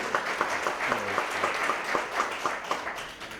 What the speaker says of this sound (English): Yeah, you can clap, that's good.